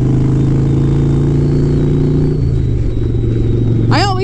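A Harley-Davidson motorcycle engine and exhaust while riding, a loud, steady low rumble that shifts pitch slightly midway, with a short whistling chirp at the end.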